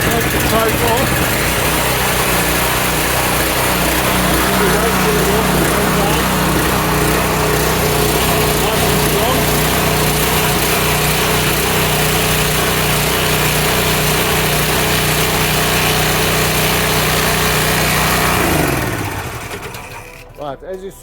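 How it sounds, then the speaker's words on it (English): A V-TUF petrol pressure washer engine running, heard as a loud, steady, high-revving small-engine drone that continues without a break before cutting out near the end, leaving brief quieter rattles. "Pull until you feel resistance, and once you feel the resistance, then give it a tap. Take the choke off."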